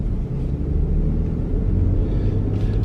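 A steady, low rumble of a car's air conditioning runs throughout, constant and unbroken with no voices.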